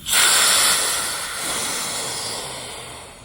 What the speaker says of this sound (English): Here I'm releasing the valve that's at the base bottom part of the kayak.